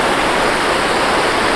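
A forest river rushes past as it is about to be crossed, a steady, loud, broadband roar of flowing water close by, with no voices.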